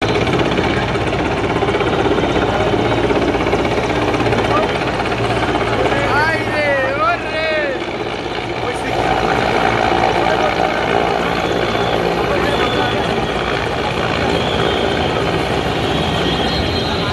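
An army rescue helicopter hovers over a crowded crash site at a school in Uttara Diabari, its steady rotor drone loud and continuous beneath a noisy crowd, with people talking and shouting throughout.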